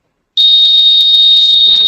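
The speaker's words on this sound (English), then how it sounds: "right now it's doing an alarm check because I've checked that option" An SDM 6000 device sounds its alarm check: a loud, steady, high electronic tone starts abruptly and holds continuously, with faint low rumbling near the end.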